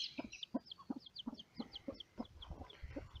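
A hen clucks softly in a steady series of short, evenly spaced notes, close by, with faint higher chirps from a newly hatched chick in the background.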